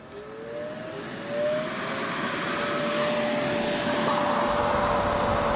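A 1988 Pelonis Disc Furnace heater with its fan turned up to maximum, giving a loud, steady rushing whoosh with a thin rising whine as it speeds up.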